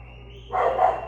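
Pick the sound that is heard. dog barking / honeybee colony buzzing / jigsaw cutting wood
dog barking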